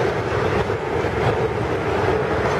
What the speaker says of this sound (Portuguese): Olha aquele caminhão.